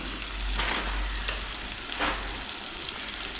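Sliced onions sauté with a pinch of salt in a pan for a Kerala fish curry, a constant close sizzle broken by a couple of stirring swishes.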